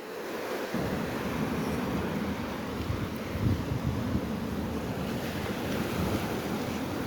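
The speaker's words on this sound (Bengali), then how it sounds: "সমুদ্রের উত্তাল হাওয়া" A strong sea wind roars across the microphone over the constant rush of rough surf, loud and unbroken, with no one speaking.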